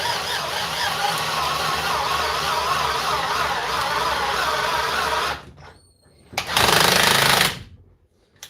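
A Parkside cordless drill converted to run on Milwaukee M12 batteries runs in screw mode with a loud, rapid hammering rattle for about five seconds, then stops, then gives a second shorter burst.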